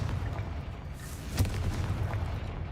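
Confringo fire-blast spell explosion in a Harry Potter video game, a low rumbling boom with a sharp burst near the middle over a dense low background, moderately loud.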